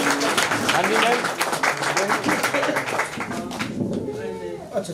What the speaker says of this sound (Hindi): एक जोरदार तालियों से